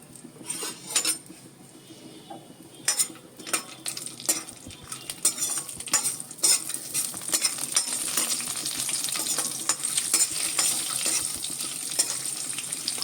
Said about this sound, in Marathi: त्याच्यामध्ये पहिल्यांदा मी हे नट्स जे आहेत हे थोडे परतून घेतोय